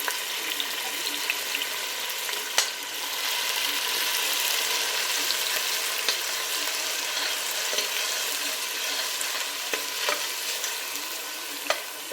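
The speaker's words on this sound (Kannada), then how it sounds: "ಈಗ ಈರುಳ್ಳಿ ಮೆಂತ್ಯ ಸೊಪ್ಪು ಮತ್ತು ಅರಿಶಿನ ಆಡಿಸ್ಕೊಂಡಿದ್ವಲ್ಲ ಅದು ಒಗ್ಗರಣೆಗೆ ಹಾಕ್ತಾಯಿದ್ದೀವಿ" Onion, fenugreek leaves and turmeric frying as a tempering for mushroom chops give off a steady, close sizzle with occasional stirring clicks and scrapes throughout, no voices.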